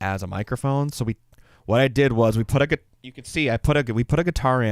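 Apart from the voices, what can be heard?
None of the usual background noises is heard.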